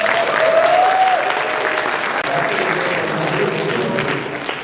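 Audience clapping and cheering at a live panel at Super MAGFest, a steady burst of applause filling the room, with a brief whistle near the start and crowd noise throughout.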